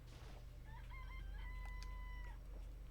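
A cartoonish chicken crow from a video game, a single clear rising and wavering cock-a-doodle-doo call lasting a couple of seconds over a low steady background hum.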